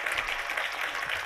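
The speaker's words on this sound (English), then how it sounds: "Let's give him a round of applause as he comes." Audience applause at a climate and decarbonization symposium greets presenter Jon Wagar, a steady, dense wash of clapping from a crowd that fills the whole short stretch evenly.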